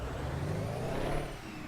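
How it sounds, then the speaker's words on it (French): A truck engine from a truck driving video game rumbles at a steady, moderate level, a low drone with a slight rise before easing off near the end, with no voices over it. "Au moins vous entendez bien le son du camion et c'est l'essentiel."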